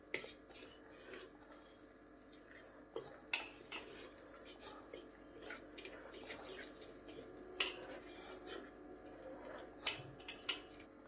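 A spoon clinks and scrapes against a bowl while coriander bhajiya batter is mixed, quiet irregular taps and stirring sounds with a few sharper metallic clicks.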